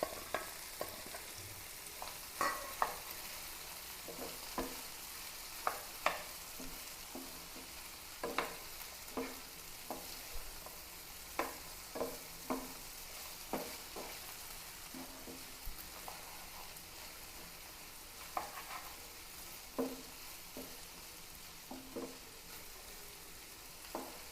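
Sliced shallots and green chillies fry in a pan with a soft, steady sizzle, broken by frequent light clicks and taps of stirring, faint and close with no talk.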